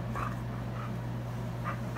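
A puppy whimpers faintly and pants indoors, a few soft high whines over a steady low hum, with no talking.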